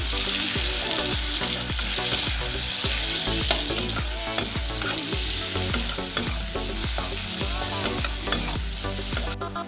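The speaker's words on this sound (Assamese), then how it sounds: "এইখিনি মই ব্ৰাউন কালাৰ হোৱালৈকে অকণ ভাজিম" Onions with salt and turmeric sizzle steadily in hot oil while a utensil scrapes and stirs the pan in a regular rhythm, loud and close, with no talking.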